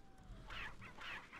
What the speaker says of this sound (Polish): tutaj chyba kura zniosła jajo